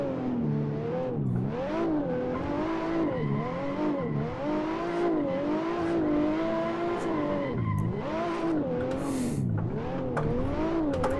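A stage 3 BMW 1M pulls away in first gear at a hillclimb, its engine loud and close, revving up and down in repeated swells with rising and falling pitch, tyres scrabbling, and no voices.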